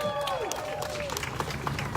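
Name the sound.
crowd applause at a march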